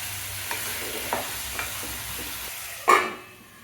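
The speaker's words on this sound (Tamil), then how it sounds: "இந்த எண்ணெயிலேயே முள்ளங்கியை வந்து நல்லா வேக வைக்கணும்." Radish pieces cooking in oil in a pan make a constant sizzle, broken by a few light spatula scrapes and one louder clatter near the end.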